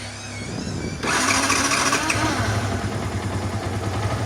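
A motorcycle engine cranks and catches, settling into a steady, rumbling idle close by.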